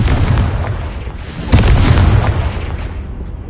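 A Confringo fire-blast spell exploding in the Hogwarts Legacy video game: a loud, deep boom that hits suddenly and rolls on in a dense, sustained rumble with no voices over it.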